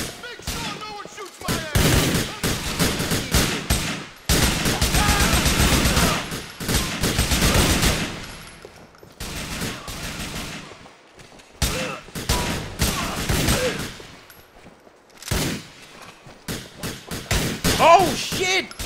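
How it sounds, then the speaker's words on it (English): Bursts of video-game gunfire crackle through most of the stretch, dense volleys with brief gaps, loud and close, while a player talks over the shooting. "Somebody shooting at me."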